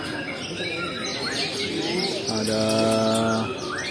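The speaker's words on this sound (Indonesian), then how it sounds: "dan ini burung-burung mewah, lebih besar juga dari GABF" Songbirds at a bird singing contest in Indonesia trill and chirp loudly together, with doves cooing and a sustained whistled note rising above the chorus; a voice speaks briefly in the crowd.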